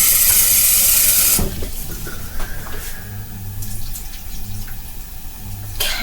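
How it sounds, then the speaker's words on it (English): Water pours from a faucet into a cooking pot with a loud, broad rush that cuts off sharply, followed by quieter kitchen clatter and a soft hiss as the pot sits, with no talk. "I'm gonna go ahead and add a little more water here"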